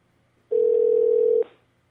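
A steady telephone tone sounds for about a second, one clean sustained beep that cuts off abruptly, with near silence around it.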